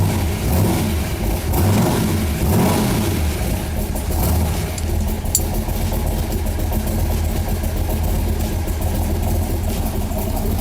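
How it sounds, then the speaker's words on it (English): A big block 427 Corvette Stingray engine runs loud and steady throughout, its deep rumble swelling in a few revs early on before settling into a sustained idle. No talking. "hear this engine roar"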